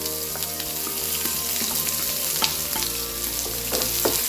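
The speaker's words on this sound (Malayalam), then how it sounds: "ഇനി നമുക്ക് സവോള ഒന്ന് വഴറ്റാം." Sliced onions and curry leaves sauté loudly in a hot pan, with a dense, steady sizzle and a few scrapes of stirring, close up and without talk.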